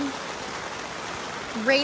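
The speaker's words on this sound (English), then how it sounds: "It is raining" Rain falling on a tent, a dense steady patter close overhead, with a voice briefly beginning to speak near the end.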